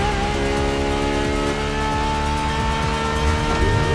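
LaFerrari hybrid V12 sports car in the racing game The Crew Motorfest, a loud continuous engine roar with rising and falling revs and gear shifts, heard close and alone.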